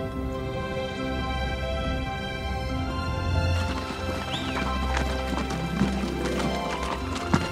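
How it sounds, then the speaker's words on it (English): Wild brumby horses gallop with hooves pounding in a fast, continuous rhythm, with a horse whinnying partway through and music or voices faintly underneath. "we feel the strength of our pounding hooves"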